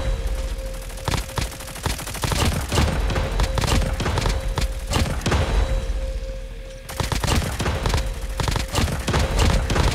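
Rapid automatic fire from the AK117 Grim Ending rifle in the mobile game Call of Duty Mobile, repeated loud close bursts with a short lull partway through before firing resumes.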